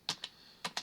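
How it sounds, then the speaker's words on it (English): Four quick, crisp keystrokes on a computer keyboard, in two pairs separated by a short pause, close and fairly quiet with no voices. "I'm just going to start typing in the cards right off that"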